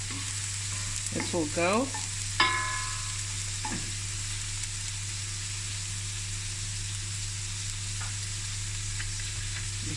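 Garlic and ginger sizzle steadily in a hot pot for oxtail curry, a constant frying hiss with a few spoon stirs near the start and a brief spoken remark over it.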